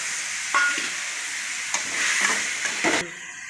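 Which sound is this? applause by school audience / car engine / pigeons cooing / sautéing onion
sautéing onion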